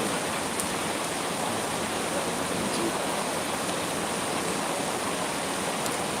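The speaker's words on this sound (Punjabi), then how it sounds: "ਤੇ ਬਾਰਿਸ਼ ਬਹੁਤ ਪੈਣ ਲੱਗੀ ਹੋਈ ਹੈ ਜੀ" Heavy rain falling outdoors in Chandigarh among many trees, a constant dense hiss of rainfall with a few faint drips.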